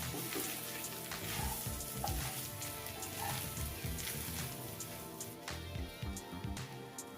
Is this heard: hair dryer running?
no